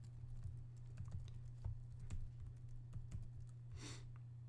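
Fingers tap a desktop computer keyboard during a Rumble Fighter game session, producing soft, quick, irregular key clicks heard faintly over a steady low electrical hum.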